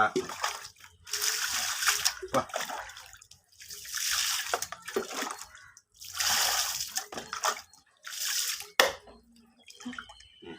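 Water splashing and pouring in loud repeated bursts during a pet's first bath in slightly warm water, with quiet gaps between pours and faint speech around them.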